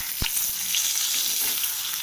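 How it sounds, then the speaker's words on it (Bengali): Rohu fish belly pieces fry in a pan with a steady bright sizzle throughout, broken by a couple of soft stirring or turning knocks. "এই পেটিগুলো ভাজা হলো।"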